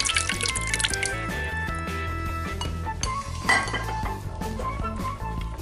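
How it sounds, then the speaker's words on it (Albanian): Yogurt being added to a bowl of summer soup brings light clinks of a spoon against the dish and small wet drips and splashes, close and clear, without speech. "Më pas këtu do të shtojmë kosin."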